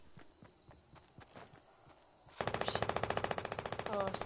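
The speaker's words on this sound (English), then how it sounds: "I hear P90s." P90 submachine gun fire in a shooter video game, a rapid burst of evenly spaced, loud shots that starts abruptly partway through after quieter scattered game sounds and footsteps.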